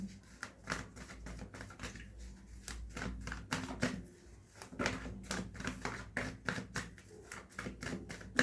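Tarot cards are shuffled by hand, giving a brisk run of close, crisp riffles and taps in uneven bursts over several seconds, with no voices.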